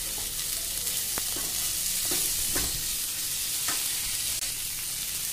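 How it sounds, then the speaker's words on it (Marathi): Curry leaves hit hot oil in a tempering for a dry drumstick vegetable dish, a loud steady sizzle with a few sharp crackling pops and stirring, close and without talk. "इथं मी कढीपत्ता टाकायचे विसरले, ते फोडणीत टाका"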